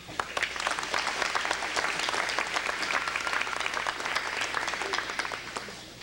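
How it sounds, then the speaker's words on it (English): Sustained applause from a banquet crowd at a 1985 school athletic dinner, a dense wash of many hands clapping at close-to-mid distance for several seconds, tapering slightly at the end. "And I think y'all deserve a good applause, so let's give it to them."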